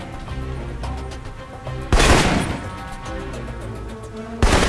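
Assault rifle fire in the video game Alpha Protocol, with two loud, sharp bursts standing out over a busy background of game sound and music.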